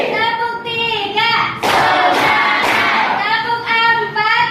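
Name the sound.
hands clapping in a classroom clap chant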